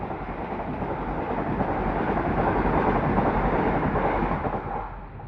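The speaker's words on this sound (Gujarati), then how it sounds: "આ વંદે ભારત ટ્રેન હતી, એટલી સ્પીડમાં આવે ને એટલી સ્પીડમાં જતી જ રહે" A Vande Bharat express train to Somnath rushes past at high speed, its dense roar and rail rumble building, holding steady and then easing away near the end.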